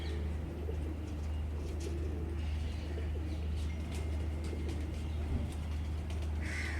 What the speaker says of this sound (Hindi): ये भी शर्मीले हैं, जीरे।